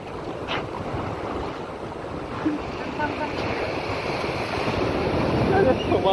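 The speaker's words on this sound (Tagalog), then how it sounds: "Lakas ng alon, man." Strong ocean waves surging and crashing close by, a continuous rough wash of surf with gusty wind buffeting the microphone, growing louder toward the end.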